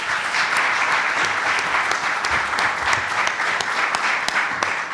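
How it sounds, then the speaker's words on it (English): A conference audience at an anniversary celebration gives a sustained round of applause, even and dense throughout, with a few sharper claps standing out near the front. "we give them a round of applause,"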